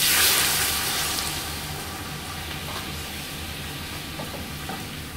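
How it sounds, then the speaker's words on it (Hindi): Water is stirred into caramelized sugar in a cooking pan while making Kabuli pulao, giving a loud, steady hiss and sizzle that slowly fades over several seconds, with no voices. "बस आप ऐसे मिक्स करें, सारा शुगर जो है पानी में आ जाएगा।"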